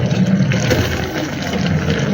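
Afang soup with meat and cow skin is stirred in a cooking pot, giving a steady wet churning and sloshing sound at close range, with no talk.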